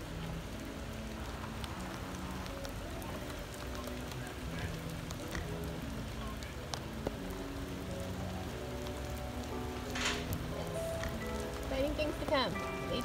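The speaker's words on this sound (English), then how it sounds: "It's raining here" Steady rain patters on a surface nearby, a continuous soft hiss with scattered drops, and faint traffic-like sounds mixed in.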